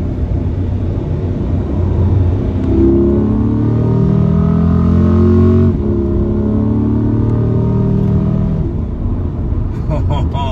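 A 2020 Chevrolet C8 Corvette accelerating smoothly, its engine a steady rising drone that builds in the middle of the clip and stays close and loud, with people talking inside the car over it.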